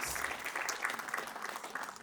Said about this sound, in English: Please have a big round of applause for the scientific committee for their efforts.